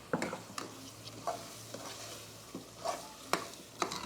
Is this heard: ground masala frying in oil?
yes